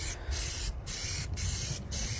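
Steady aerosol spray paint hiss on chipped car paint in short bursts with quick, evenly spaced breaks, sounding close and fairly loud, outdoors in wind.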